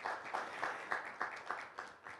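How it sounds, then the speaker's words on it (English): Audience clapping at a business breakfast and networking gala, a soft, fairly quiet wash of hands with rhythmic swells roughly every half second, no voices over it. "And we have a clap."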